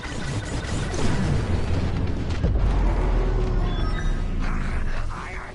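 A reactor core explodes after a bombing run in the space combat game Star Wars Squadrons, producing a sustained deep rumbling roar with a sharp crack near the middle, loud and continuous before trailing off at the end.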